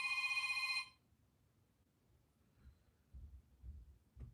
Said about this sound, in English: Here's a phone call.